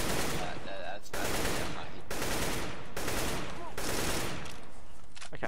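Automatic rifle spray in Counter-Strike: Global Offensive rattles out in four dense, loud bursts of about a second each, separated by short gaps, with no talking over them.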